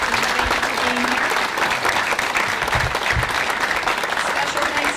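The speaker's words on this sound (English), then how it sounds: "I think all these candidates deserve a great round of applause." Audience at a Thunder Bay election candidates' forum applauding the candidates, full and steady clapping close by, with a few brief voices mixed in.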